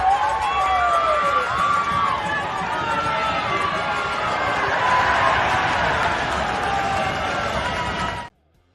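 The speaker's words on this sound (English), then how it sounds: "So as you can hear, there's a little bit of cheering" A small, sparse crowd at a Toronto Marlies hockey game cheers lightly in a steady, fairly close wash of claps and shouts with faint whistles and rising calls, cutting off abruptly near the end.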